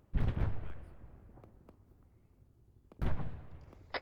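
Frag grenades exploding in a military video game: two loud, close blasts, each a sharp burst fading into a rumbling tail, about three seconds apart, with no talk.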